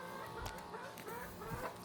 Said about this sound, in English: I got chickens harassing other chickens.